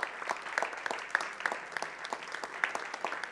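Audience applause at the closing of a stage event, a steady patter of many hands clapping at moderate distance, fairly faint, with a few sharper individual claps.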